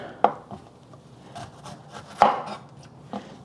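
A knife cuts up an onion on a board for a pulled pork sandwich, making a few sharp, close chopping knocks spaced unevenly between quieter scraping sounds, with no talking.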